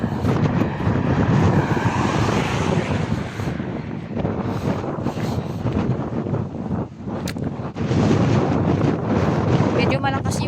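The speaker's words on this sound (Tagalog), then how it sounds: "At saka medyo malakas na yung hangin." Strong outdoor wind roars and buffets the microphone almost continuously on a sunny day, loud and gusty with brief lulls, with a voice faintly beneath it.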